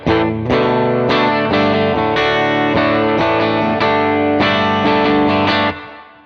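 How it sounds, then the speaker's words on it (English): Distorted electric guitar through a plate reverb pedal plays a series of ringing chords, each strike blooming with a wide, smooth reverb tail that fades out at the end. "Nice little plate reverb."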